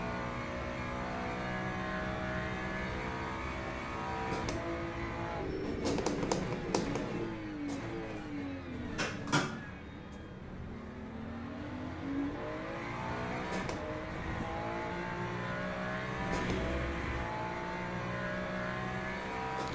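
Racing car engines in Le Mans Ultimate at Bahrain, a steady loud drone of close engines with rising and falling pitch sweeps as the car runs in a BMW's slipstream, broken by a few sharp ticks and gear-change bursts.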